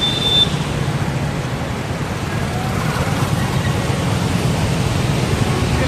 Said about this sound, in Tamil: தண்ணி வேகமாக போகுது